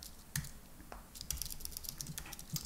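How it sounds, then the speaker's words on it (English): Typing on a computer keyboard, a quick irregular patter of close, crisp keystrokes with a few louder taps, no talking. "And we can go ahead and type this."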